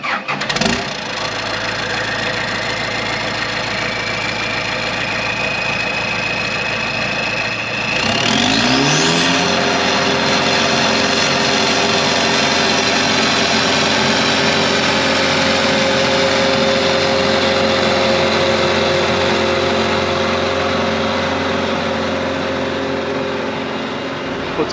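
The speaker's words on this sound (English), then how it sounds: "that's how a swather works, or some people might call this a windrower" A swather windrower hay-cutting machine starts up and its engine rises to a loud, steady drone with a rising whine that holds for a long stretch, with no voices.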